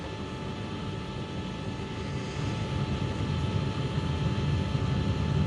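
Aircraft engines drone steadily inside a cockpit, a dense, continuous roar with a faint tonal hum that swells slightly louder toward the end, with no voices.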